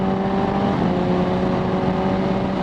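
A Suzuki GSX-S750Z motorcycle accelerates at low speed, its engine droning steadily and fairly loud and close, while a Translogic quickshifter handles the first-to-second upshift without a clear break in the sound.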